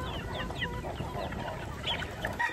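A pure golden boy gamecock with white feet clucks and calls close by, a string of short chirping notes over a steady background of other fowl and farmyard noise.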